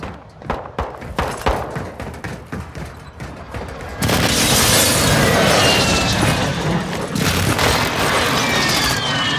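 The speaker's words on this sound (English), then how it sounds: "Friendly airstrike in the AO." Airstrike explosions in Call of Duty Warzone on Ashika Island: a run of sharp thumps and shots, then a loud, sustained, rumbling roar of blasts that fills the rest of the clip.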